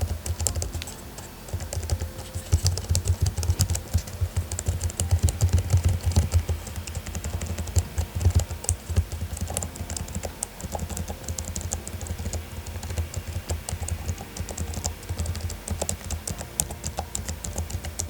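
Continuous fast typing on a Logitech MX Keys Mini keyboard, soft muted keystrokes in a dense steady rhythm, close up with no speech.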